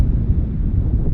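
Strong gusting wind roars steadily at Bristol airport during Storm Dudley, a loud, low rumbling buffet on the microphone with no break.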